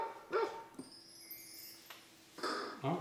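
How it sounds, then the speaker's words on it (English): Electronic dog barks from a Roland GO:PIANO 61 digital piano's sound effect sound in a few short bursts, separated by a sustained synthetic tone. "And this is a dog barking"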